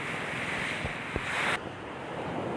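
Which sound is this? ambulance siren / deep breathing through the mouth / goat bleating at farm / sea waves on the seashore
sea waves on the seashore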